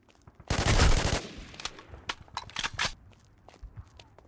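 A loud burst of rapid gunfire up front in the video game WarInc, followed by scattered sharp shots and clicks fading into quieter bursts.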